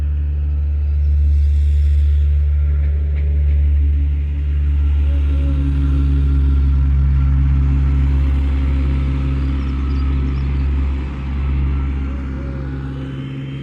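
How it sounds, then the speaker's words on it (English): A heavy tractor engine rumbles steadily nearby in the countryside, its low drone swelling and easing as the tractor passes at close range. "out in the country we have a lot of tractors that go by making lots of noise"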